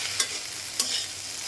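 Chopped onion frying with okra in a pan, seasoned with ginger and salt, giving a steady soft sizzle broken by two brief scraping stirs.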